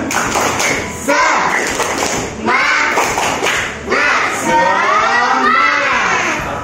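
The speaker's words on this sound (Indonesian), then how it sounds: "Bapak akan berikan tepukan. Tepuk semangat." In a school classroom, a class claps in a rhythmic spirit clap, with bursts of quick claps and thuds mixed with children's voices chanting and calling out, loud and close.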